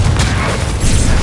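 Confringo blasting spell detonating in Hogwarts Legacy, a loud, close, rumbling explosive boom that fills the whole moment without a break.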